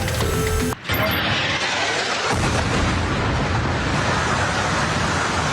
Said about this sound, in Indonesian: Sebuah rekaman video menunjukkan ledakan akibat serangan udara Israel menghantam sejumlah gedung